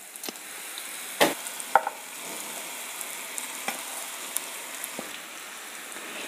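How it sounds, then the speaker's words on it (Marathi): Ground soybean chunks fry in spiced oil as they are stirred, a steady soft sizzle with a few sharp scraping clinks, close and alone. "आपण आता यात ग्राइंडिंग केलेली सोयाबीन वडी टाकून घेणार आहोत"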